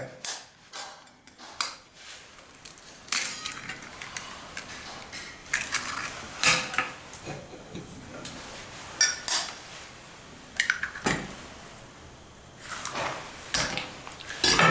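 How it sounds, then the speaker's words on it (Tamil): Eggs are cracked into a pan for a cabbage omelette amid a series of sharp, irregular taps, knocks and clatters of shells and cookware close by, with brief quiet gaps between them. "இப்போ முட்டை 2 முட்டையா 3 முட்டையா போடுங்க"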